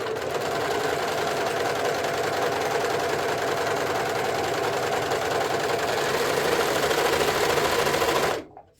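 A serger sewing machine runs fast and steady with a dense, rattling mechanical hum, loud and close, continuing for about eight seconds before stopping abruptly.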